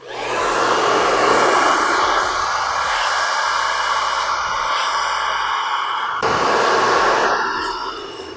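A hair dryer blows steadily at close range while a graduated bob haircut is styled, a loud airy whoosh with a whine, briefly dipping and shifting pitch partway through.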